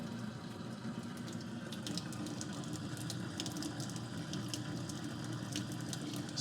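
A thin pencil-width stream of tap water runs steadily into a garbage disposal being cleaned with foam, a continuous close hiss and splash with faint crackling, alone without talk.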